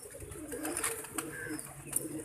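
Breeder pigeons coo softly nearby, a low rolling murmur repeated in short pulses against faint background noise.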